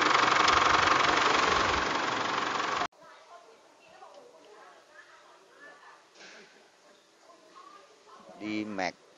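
A 2005 Isuzu D-Max pickup's diesel engine, with corroded injector washers and worn injector tips, runs loud and rough for a few seconds, then cuts off abruptly, leaving quiet workshop background and faint sounds.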